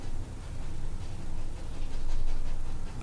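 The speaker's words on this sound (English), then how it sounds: "Our dog here is getting very excited hearing about this." An excited dog pants rapidly and rhythmically close by, a breathy, steady huffing with no talking over it.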